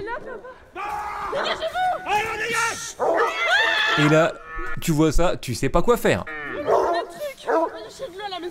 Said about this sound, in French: Les gens entendent des bruits d'aboiement chez eux.